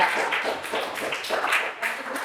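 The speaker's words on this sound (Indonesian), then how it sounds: "Tepuk tangan untuk kalian semua." Class of students clapping hands in a classroom, a quick run of close, sharp claps with a slightly uneven rhythm and some voices mixed in.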